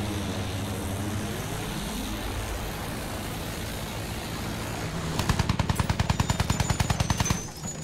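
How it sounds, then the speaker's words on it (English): Battlefield 1 combat with an enemy plane droning overhead under constant noise, then a loud burst of rapid anti-aircraft gunfire, like a pom-pom gun, over the last couple of seconds. "Sighted, an enemy plane. Look up, plane."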